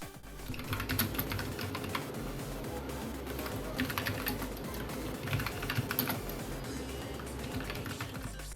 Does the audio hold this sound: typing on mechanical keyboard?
yes